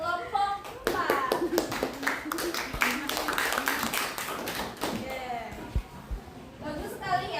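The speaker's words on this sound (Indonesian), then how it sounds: "Berikan tepuk tangan untuk kelompok 4." A group of children and adults in a classroom clap for group four, a burst of quick, dense hand claps lasting several seconds. Voices and chatter rise under and after the applause.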